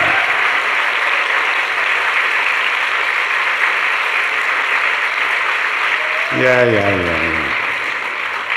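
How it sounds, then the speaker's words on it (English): Group applause at a summer mountain retreat gathering in Boone, North Carolina: a steady, even round of clapping across the clip, with a voice briefly cutting in near the end as it tapers off. "How about a round of applause for Krishna's"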